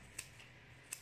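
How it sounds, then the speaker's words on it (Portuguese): Scissors snip through a sheet of EVA foam, shaping it into a point for a corner arrangement craft; two short, crisp cuts about three quarters of a second apart, close and quiet against a faint background hum. "você pega aqui a tesoura, ó, e vai fazendo como se fosse uma ponta"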